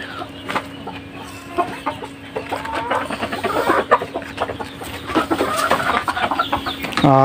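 Golden, black and white Cochin hens on a farm cluck and chatter close by in irregular bursts, with a few sharper squawks over a faint steady hum.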